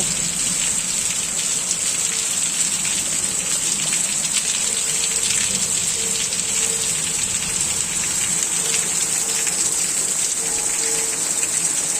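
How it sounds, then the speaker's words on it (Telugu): Heavy thunderstorm rain pours down steadily, a dense, unbroken hiss of water hitting surfaces, with no voices. "తుఫాన్లు మెరుపులతోనూ చాలా పెద్ద వర్షం అండి"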